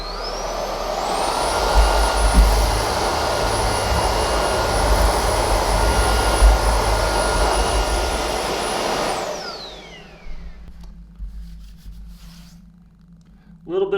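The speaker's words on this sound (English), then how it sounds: "We're going to try this on high with the fluffy brush roller first." Roidmi X20 cordless stick vacuum running on high with its fluffy brush roller over carpet: a loud, steady motor whine with a high tonal pitch that holds for about nine seconds, then winds down, leaving faint handling clicks.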